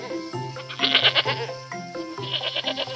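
A cartoon goat bleats in an animated children's story, a series of short wavering bleats over a soft music bed, close and moderately loud.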